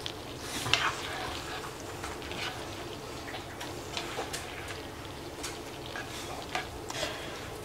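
Butter sizzling and crackling as it melts in a pan while cooking comfort-food macaroni and cheese, a steady soft frying hiss with scattered small pops and utensil clicks, fairly quiet and without talk.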